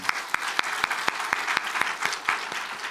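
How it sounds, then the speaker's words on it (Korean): A church congregation at a Sunday worship service applauds, a steady, moderately loud patter of many hands with a few sharper individual claps standing out at regular intervals. "박수 한번 할까요?"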